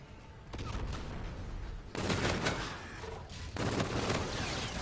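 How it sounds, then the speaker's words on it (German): Sustained gunfire rattles in Call of Duty: Infinite Warfare, loud close bursts of rapid shots in two dense waves with a brief lull between, with no talking over it. "Da habe ich zu spät angefangen zu schießen"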